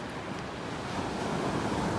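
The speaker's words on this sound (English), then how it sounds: "Beautiful with those waves, isn't it?" Ocean waves breaking along a sandbar beach in North Naples, Florida, a loud steady wash of surf mixed with wind noise on the microphone.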